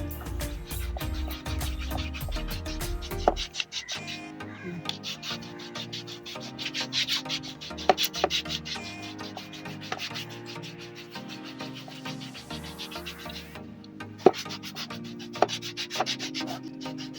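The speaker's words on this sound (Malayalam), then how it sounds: "നമുക്ക് ഇനി ഇങ്ങനത്തെ ഒരു ഉപ്പൂറ്റി വരയ്ക്കണത് വെച്ചിട്ട് ഉപ്പൂറ്റി നന്നായിട്ട് ഉറച്ചു കൊടുക്കാം" A heel scrubber rasps over the skin of a heel during a pedicure, a repeated close scraping rub in short strokes, played with background music.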